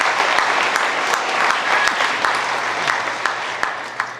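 Sustained audience applause fills a graduation ceremony hall, a dense steady wash of many hands clapping with a few sharper claps standing out, fading slightly toward the end.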